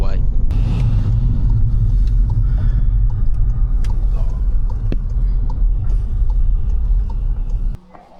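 A car driving a short way from Dyrham Park near Bath, heard from inside as a loud, steady low road rumble and engine drone that drops away sharply near the end, with faint knocks along the way.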